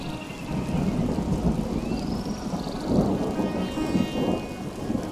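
A thunderstorm with heavy rain as a sound effect: dense steady rainfall on surfaces with low rolling thunder swelling around the middle and toward the end, no voices.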